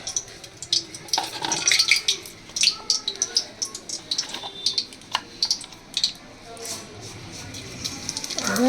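Black cumin seeds tempering in hot oil in a pan with chili, giving crisp irregular crackles and sputters of varying loudness, with someone talking over the sizzling.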